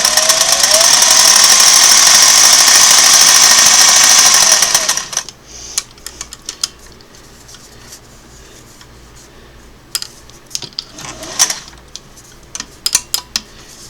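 A Singer Model 404 sewing machine runs a steady, loud stitching burst at ten stitches per inch for about five seconds, then stops, leaving quiet room tone with scattered small clicks and handling knocks.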